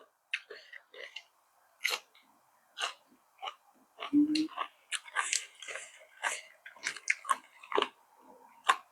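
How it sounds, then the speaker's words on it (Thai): Crunchy bites and chewing of bullet jellyfish dipped in spicy seafood and fermented fish sauce, sharp crisp crackles repeating close to the mic, with a little voice between bites. "กรอบคักแน่พี่น้อง"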